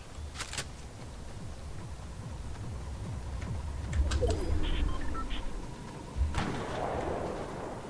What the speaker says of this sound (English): Did you just shoot?